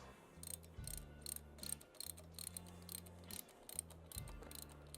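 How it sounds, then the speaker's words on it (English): Ratchet tightening bolts on an S&S Cycles 1200cc Hooligan kit fitted to a Harley-Davidson 883cc Sportster engine: rapid, close clicking in repeated bursts with brief pauses between strokes, over a steady low mechanical hum. "That's not the ratchet I like. I like this one better."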